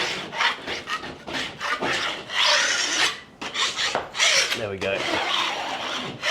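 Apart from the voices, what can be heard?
scraping plaster over a ceiling crack with a blade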